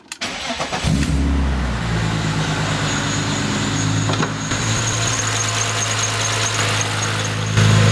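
An E36 BMW M3 engine cranks and catches, then settles into a steady, rumbling idle that continues close by for several seconds.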